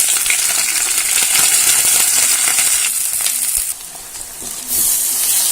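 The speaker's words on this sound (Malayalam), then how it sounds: "ഇനി ഇതിലേക്ക് നമ്മൾ എടുത്ത് വെച്ചിരിക്കുന്ന സവാളയും പച്ചമുളകും കൂടി ചേർത്ത് കൊടുക്കാം" Onion and green chilli frying with coconut pieces in a pan for a soya chunks fry, giving a loud, steady hiss of sizzling oil with a few scraping stirs and a short quieter dip midway.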